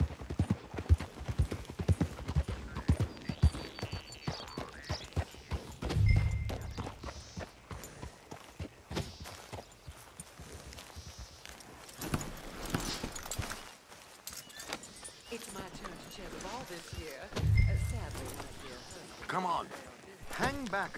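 Hooves of a horse-drawn coach clip-clop steadily in the Red Dead Redemption II video game, with a few rumbling wheel thumps and a dog barking, while characters talk over it.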